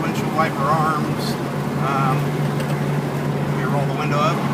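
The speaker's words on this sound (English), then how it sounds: "Let me roll the window up. A little less road noise." Steady low road rumble and engine hum from inside a moving 1971 Ford Maverick Grabber, with someone talking over it.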